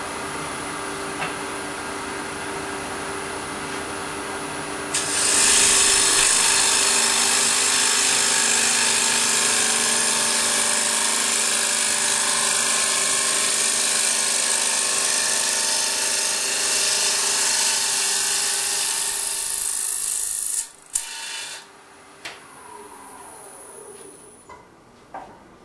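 A wood lathe spins at 1,550 RPM while an Easy Wood Tools carbide-insert rougher cuts the wood, giving a steady high whining hum that runs for about twenty seconds and then winds down to quiet.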